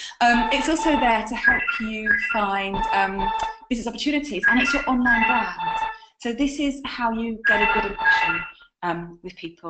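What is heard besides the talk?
telephone ringing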